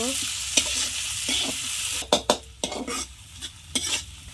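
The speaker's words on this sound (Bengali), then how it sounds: "পেঁয়াজ দিলাম, পেঁয়াজটা লাল করে ভেজে নেব।" Onions frying in the oil left over from frying fish, a steady hiss broken by loud scraping stir strokes and clatters from a spatula against the pan, close and prominent.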